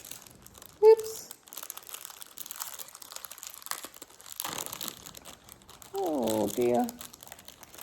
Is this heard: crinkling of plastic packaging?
yes